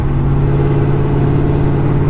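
A 600hp supercharged LSA V8 in a GTO drones steadily and loud, a low engine hum holding close and constant throughout with no talk.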